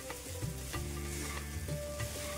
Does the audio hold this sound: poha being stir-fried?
yes